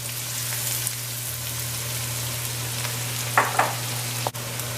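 Squash frying in oil in a pan with all-purpose seasoning and black pepper gives off a continuous soft sizzle over a low steady hum, with a couple of brief clatters near the end.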